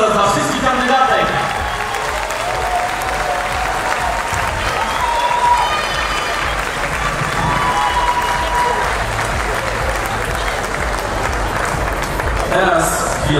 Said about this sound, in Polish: Jeszcze raz wielkie brawa dla naszej miejsca oraz dla wszystkich kandydatek!